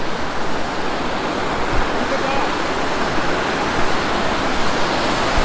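A waterfall in Kashmir gives a steady, loud broadband roar that runs unbroken throughout, with faint speech-like sounds under the rushing water.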